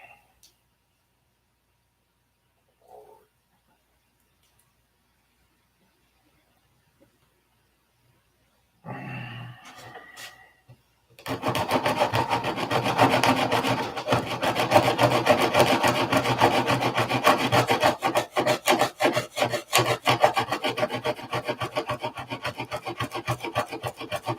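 Sandpaper, 80 grit, scrapes heavy paint off wood by hand in rapid, rough, close strokes that continue steadily for a long stretch, after a quiet start with a few faint knocks.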